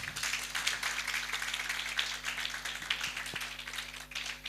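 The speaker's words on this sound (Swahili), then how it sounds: "Pigia Don makofi" A church congregation at an end-month night prayer service claps for Don, a brief, fairly faint patter of many hands over a steady low hum, with no talk during it.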